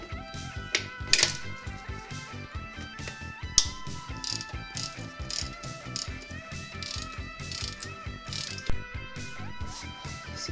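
A ratchet clicks rapidly while removing 12mm parking brake lever bolts on a 3rd gen Toyota 4Runner, sharp close metallic ticks in quick bursts with a few louder knocks between.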